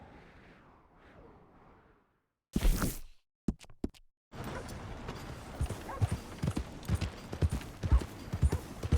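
A horse galloping in Red Dead Redemption 2, rapid rhythmic hoofbeats pounding loudly and continuously after a brief quiet stretch and a few sharp bursts.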